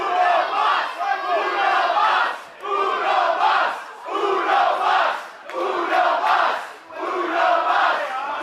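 A wrestling crowd roars and cheers in loud, swelling bursts, each wave rising and falling with short dips between, continuous shouting and applause filling the venue.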